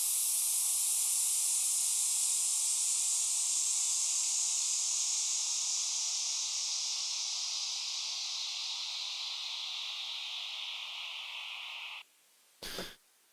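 A synthesized white noise landing effect with resonance, loud and bright, slowly falls in pitch and fades over about twelve seconds, then cuts off, followed by a short final noise burst.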